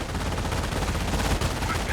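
Rapid machine gun bursts from an MG42 bunker in Company of Heroes, dense continuous gunfire with heavy low thumps filling the whole stretch, loud and close, with faint voice traces mixed in.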